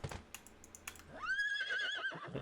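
A horse neighs in The Ultimate Haunted House video game, a rising, wavering whinny lasting about a second, heard alone and fairly clear after a few short clicks.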